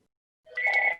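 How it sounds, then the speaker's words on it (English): A phone rings once in a classroom, a short tonal electronic ring starting after a moment of silence and cut off abruptly, with no voices. "If I don't answer it, it'll just keep ringing."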